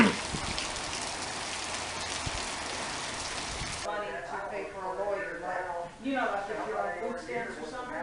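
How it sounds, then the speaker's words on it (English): Hurricane Harvey rain pours down in a dense, steady hiss for about four seconds, then gives way to someone talking over fainter background noise. "so now the rain's starting to pick up a little bit here"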